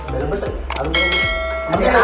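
A subscribe-button bell sound effect rings out in bright, ringing chimes over busy background talk and sound.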